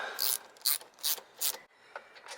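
Lid being snugged down on an FJ40 cooling part, a series of four quick ratcheting bursts followed by two softer clicks, close and crisp with no talking.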